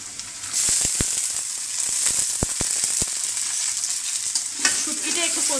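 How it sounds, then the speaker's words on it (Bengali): Mixed dried fish sautés in a pan with a loud, steady sizzle, broken by sharp, close spatula scrapes and taps at irregular intervals. "শুটকিটা একটু কষিয়ে নেব।"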